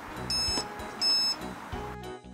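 Short electronic warning beeps from the receiver collar of an Effitek electrostatic invisible dog fence, two brief tonal pulses heard alone in a quiet room.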